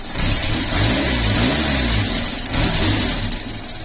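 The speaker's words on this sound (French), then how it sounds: "elle fait des trous par moment. Là par exemple." A Renault Super 5 engine runs steadily nearby and stumbles now and then with misfires as it is accelerated, its loud drone briefly dipping.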